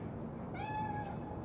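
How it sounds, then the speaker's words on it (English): A single short meow from a cat in the video game Cyberpunk 2077, set in Night City, heard clearly over a low background rumble. "Do you see it? That cat?"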